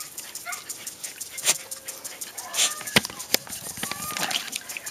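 A dachshund whimpers and lets out short yips over a faint watery background, with several thin, high whines and sharp little cries spaced irregularly, close and fairly quiet.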